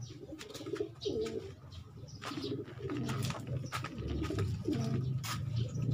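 Racing pigeons coo softly and steadily as they return to the loft after a 90-kilometre training flight, with a few wing flaps and chirps over light background noise.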